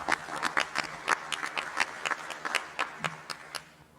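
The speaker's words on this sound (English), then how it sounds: "give our panel another round of applause for their candor tonight" Scattered, sparse clapping from a small audience at an evening community discussion on accountability and action against hate, individual claps distinct and uneven, fairly quiet and close, tapering off at the end.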